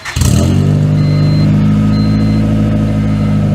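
Car engine with a quick release exhaust and no silencer, revving hard up from a start then holding a loud, steady, raspy drone close to the mic, with no talk.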